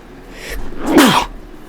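A single loud, close sneeze bursts out with a sharp breathy release after a brief intake of air.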